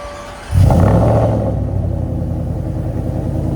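An 850-horsepower supercharged Ford F-150 with a 5.0L V8, headers and Black Widow Race Venom exhaust fires up with a sudden loud roar, then settles into a deep, choppy, lumpy idle pulsing steadily close by.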